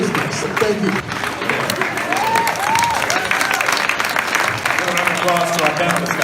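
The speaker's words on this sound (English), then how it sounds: "Round of applause to our panelists." Audience applause for panelists at a college campus debate, a dense, steady clatter of many hands clapping throughout, with voices calling out and chatter mixed into the crowd noise.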